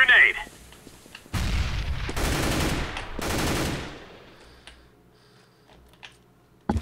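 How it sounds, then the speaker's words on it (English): A grenade blast and gunfire in Counter-Strike: Global Offensive, with several loud, broad bursts of shots and detonations in the middle that fade into quieter game ambience and a few faint clicks. "Throwing grenade!"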